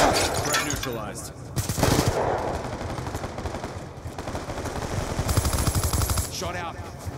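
Call of Duty Black Ops II multiplayer gunfire rattles in rapid automatic bursts, near and loud, over a busy battle din with game voice chatter mixed in.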